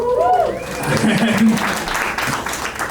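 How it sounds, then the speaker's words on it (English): At a comedy club, an audience gives a short burst of applause and crowd noise during a stand-up set, with the comedian's voice audible over it. "Thanks for the applause"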